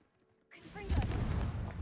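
The Confringo spell is cast in a Harry Potter video game: after a brief quiet moment, a sudden fiery blast erupts and rumbles on as a loud, crackling explosion until the end.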